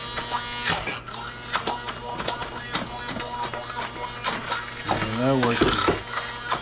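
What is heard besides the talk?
kitchen grinder grinding up vegetables for food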